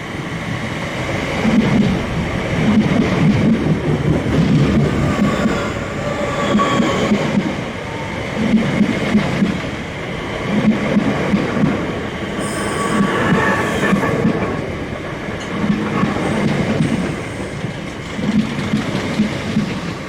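A ten-coach Southeastern passenger train to Tunbridge Wells at a South London station, wheels squealing and rumbling as it moves along the platform, steady and close with rhythmic clatter throughout.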